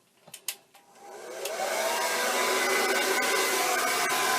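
A handheld hair dryer blows steadily on a young girl's natural hair during scalp care for eczema, starting after a few soft knocks and rising within a second and a half into a loud, continuous whooshing hum that holds to the end.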